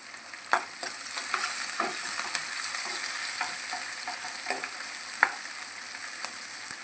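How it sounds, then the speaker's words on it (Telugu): Chopped onions and green chillies fry in a pan with a continuous close sizzle, punctuated by light scraping stirs at irregular intervals. "ఇవన్నీ మంచి కలర్ వచ్చేదాకా వేగనివ్వాలి."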